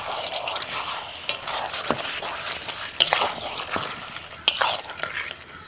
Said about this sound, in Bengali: এবার চিকেনের সাথে এঁচোড়টাকে মিনিট 5 কষিয়ে নেব।